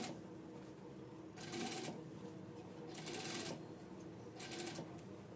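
Sewing machine stitching a half-inch blouse seam, heard as three brief, quiet bursts of running stitches spaced a second or so apart against a low room background.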